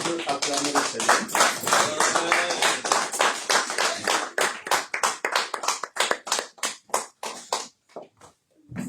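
A church congregation claps together during a worship service, rapid rhythmic hand claps at first dense and loud, then thinning into sharp separated claps that trail off near the end, with faint voices mixed in.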